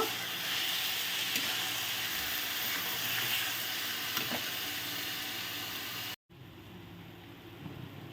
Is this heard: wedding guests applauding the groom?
no